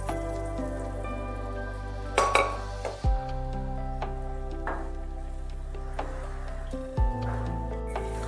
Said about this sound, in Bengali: গরম জল একেবারে কুকারটা ধুয়ে দিয়ে দিলাম।